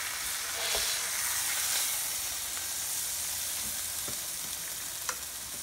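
Beef chuck roast pieces searing in a hot pan, a loud continuous sizzle and spatter with a few faint knocks as pieces settle; no voices.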